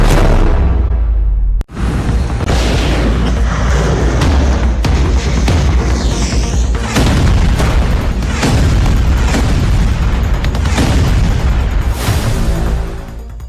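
Heavy explosions from an attack on Kharg Island, a loud continuous roar of booming blasts with a sharp break near the start, then sustained rumbling detonations throughout.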